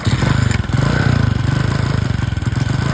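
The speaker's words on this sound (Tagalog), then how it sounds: "Pakinggan niyo pong mabuti yung kanyang andar ano." A hard-starting motorcycle engine idles close by with a rough, uneven chugging beat, its throb wavering and stumbling rather than holding steady.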